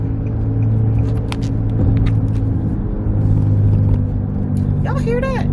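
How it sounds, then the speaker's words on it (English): A loud, steady low motorboat engine rumble drones throughout, close and constant, with a voice breaking in briefly near the end. "Y'all hear that? That's my car."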